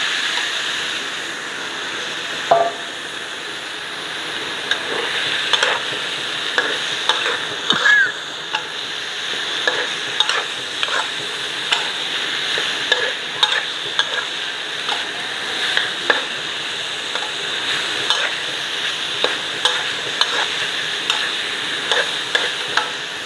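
Eel stir-fried with curry paste in a hot pan for a spicy Thai dish, a steady loud sizzle with regular scraping strokes of a spatula, close and continuous with no talking.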